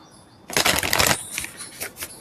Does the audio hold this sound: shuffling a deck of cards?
yes